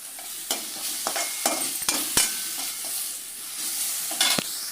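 Potatoes sizzle and crackle as they fry golden brown in a hot pan, with sharp scraping clicks as they are stirred and turned every second or so.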